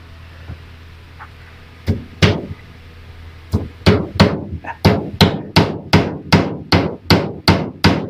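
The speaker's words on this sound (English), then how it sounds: "Nail. It's hammer time." A hammer strikes a nail repeatedly, a few scattered blows at first, then a quick steady run of sharp, close knocks.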